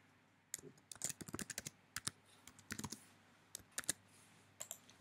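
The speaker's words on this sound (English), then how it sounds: "So we enter the username and the password." Fingers typing a username and password on a computer keyboard, a quick run of crisp, close key clicks in uneven bursts with short pauses, no voices.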